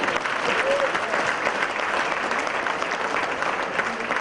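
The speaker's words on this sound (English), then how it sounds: "Let's hear a big round of applause, ladies and gentlemen." Audience applause at the INTAS event in Malaysia, a full, continuous wash of clapping from a large crowd that holds steady throughout, with faint voices beneath it.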